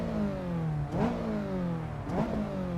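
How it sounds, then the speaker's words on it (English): Car engine revving in Assetto Corsa EVO, pitch climbing steadily then dropping sharply at each of two gear shifts, with a VTEC changeover in the rising tone; loud, close and steady, no talk. "there's gonna be also a very clear changeover when the VTEC kicks in"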